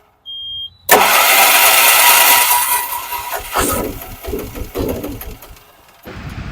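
A Piaggio Ape auto-rickshaw diesel engine, running with petrol mixed into its diesel tank, cranks and catches with a loud, rough roar, then settles into an uneven, sputtering idle that dips and surges before steadying.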